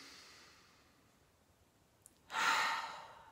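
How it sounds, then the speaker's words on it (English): A deep breath is taken near the microphone, a soft fading exhale followed after a pause by a strong, rushing inhale. "I like to close my eyes and take some really deep breaths"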